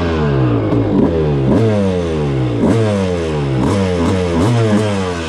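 A two-stroke dirt bike engine with a freshly rebuilt top end and a Lectron Billetron carb revs loudly and close, rising and falling in repeated sharp throttle blips over about five seconds.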